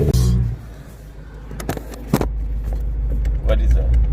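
A tuned BMW E92 M3 running on E85 gives a steady, deep, fairly quiet rumble throughout, with a few clicks and people talking over it.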